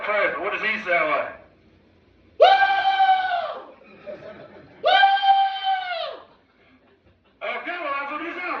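A person imitates a screaming goat with their voice, giving four loud, strained, harmonic screams with quiet gaps between them, close and harsh. The middle two are the longest.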